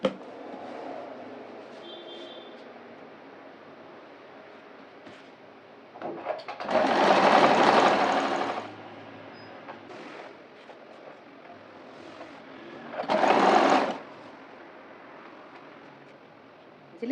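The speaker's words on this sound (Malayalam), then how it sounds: "മേലെ ഒന്ന് സ്റ്റിച്ച് ചെയ്ത് പോവുക. 1/2 ഇഞ്ചിൽ സ്റ്റിച്ച് ചെയ്യുക." Sewing machine stitching a half-inch folded hem along a kurti neckline made from nighty material, running in two loud bursts of about two and one seconds separated by quieter handling sounds.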